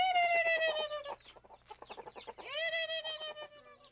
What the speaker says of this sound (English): My sister and I help our mom with lots of things like feeding the chickens.